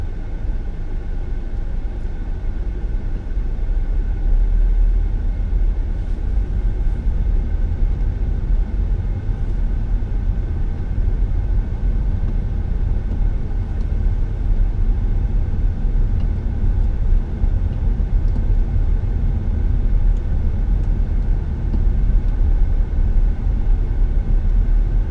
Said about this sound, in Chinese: 隧道里面还是一如既往的堵车啊